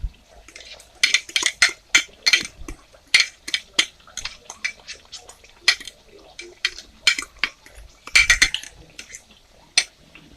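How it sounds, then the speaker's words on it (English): A utensil stirs beaten egg, salt and pepper into ramen noodles and meat in a bowl, giving rapid, close clinks and scrapes in an uneven rhythm with a faint wet sound underneath. "So we're going to stir it well to combine."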